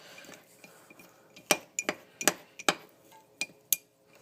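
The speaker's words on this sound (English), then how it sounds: "now I'm going to stir them" A spoon stirs microwaved white chocolate in a cup, giving a series of sharp, close clinks against the cup, about a dozen irregular taps with short pauses between them.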